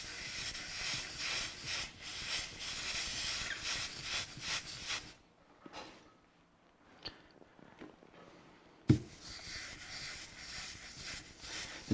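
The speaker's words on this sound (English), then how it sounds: "you're using the wet rag to apply the steam" A broad steady hiss of steam from an iron pressed on a wet rag over dented wood runs for several seconds, falls quiet with a few soft sounds, then resumes abruptly after a sharp knock.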